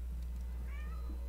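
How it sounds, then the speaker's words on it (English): A pet cat named Pooh gives a single drawn-out meow, fairly quiet, over a steady low hum. "My cat says hello."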